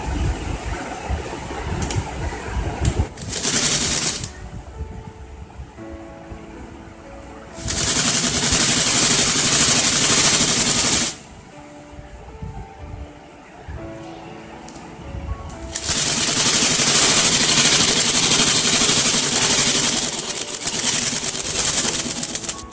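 A sewing machine stitches the folded-back side of a newborn baby dress, running in three loud, close bursts, the last one longest, with quieter pauses between them.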